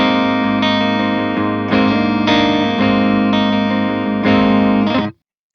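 A distorted electric guitar chord rings out through an ENGL Ravager lunchbox amp, struck several times in succession with full sustained harmonics, loud and saturated, then cut off abruptly.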